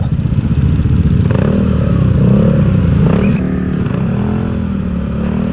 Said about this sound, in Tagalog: Kaya pala may mga motor doon.